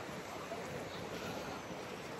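The Indus River at Sindhu Ghat near Leh, Ladakh, rushes past in a continuous, fairly faint broadband roar of flowing water, steady throughout with no voices.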